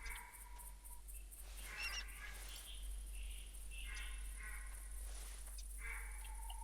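Several duck quacks and honks in theHunter: Classic come in short bursts over a steady low hum and faint insect-like chirping, with no talking.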